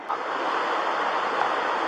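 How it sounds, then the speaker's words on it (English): Waterfall in a park with stone formations nearby, a steady broadband rush of falling water that holds even and fairly loud throughout, with no voices. "Waterfall action."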